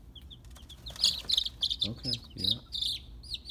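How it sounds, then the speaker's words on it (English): Baby chicks peep in high, rapid bursts in a kindergarten classroom while a person speaks briefly nearby. "Baby chickens in the classroom."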